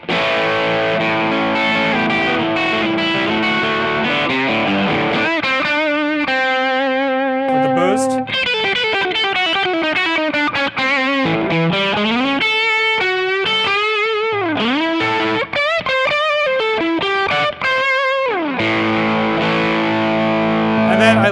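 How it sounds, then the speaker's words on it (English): Electric guitar played through a Kemper distortion channel, loud and saturated, with sustained chords and melodic runs ringing continuously without pauses. "If I want to go to more distorted tone, I have this distortion channel here that I really like."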